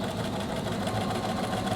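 A sewing machine stitches a fabric hood onto an atikłuq body, running at a steady, continuous hum with a fine repetitive needle chatter throughout, close and moderately loud, with no talking.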